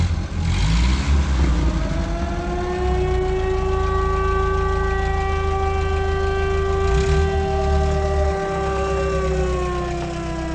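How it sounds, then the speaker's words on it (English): An air raid siren wails in Kherson, Ukraine, a loud, sustained rising and falling tone that carries across the area, steady and continuous over low rumbling background noise. "and the sirens are going off once again."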